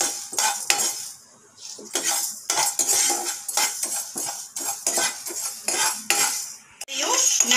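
Fenugreek seeds and black pepper dry-roasting in a pan, with a spoon scraping and clattering against the metal in quick repeated strokes, close and fairly loud, with no talk.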